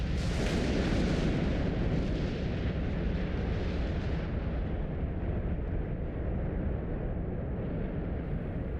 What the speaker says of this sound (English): It's likely that the Egyptians would have heard the deep boom of this explosion